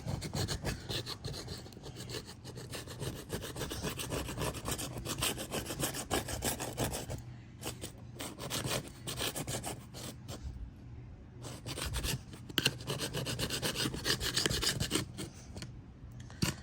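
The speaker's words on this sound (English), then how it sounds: "So you have to work all these out, get that stuff out." Old screen spline remnants are scraped out of a window frame channel during a screen replacement, producing continuous close, harsh rasping and scratching strokes in a busy irregular rhythm with only brief pauses.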